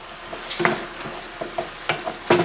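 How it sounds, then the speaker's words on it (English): Ground beef, about half cooked, frying in a pan, with a soft steady sizzle broken by several sharp scraping stir strokes close up, no speech. "we're about halfway through with the ground beef"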